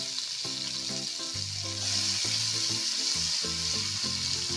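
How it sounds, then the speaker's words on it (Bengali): Oil sizzles steadily as bitter gourd fries in a pan, with a soft continuous crackle and faint stirring, while a background tone hums throughout. "এবার এটাকেও আমি ভাজা ভাজা করে নেবো।"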